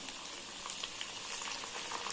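Chicken frying on a low flame while curry leaves go into the hot oil, a steady, soft, hissing sizzle with a few faint crackles, close and without voices.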